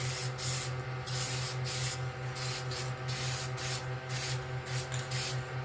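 Lacquer spraying onto a DIY JEM-style guitar kit body, a steady close hiss in repeated short bursts with brief pauses between passes, over a constant low hum, with no talking.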